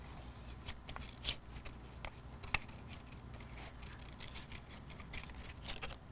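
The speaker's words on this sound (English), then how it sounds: "scissors are grabbing my paper" Scissors cutting paper for an art project, a series of faint, quiet snips and rustles spaced irregularly over low background noise.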